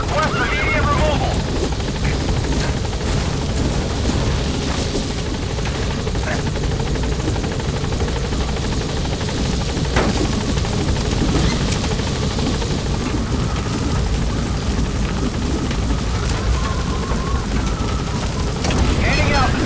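Pequod helicopter in Metal Gear Solid V, its loud continuous rotor roar filling the whole stretch, with scattered gunfire bursts and booms and a radio voice talking over it.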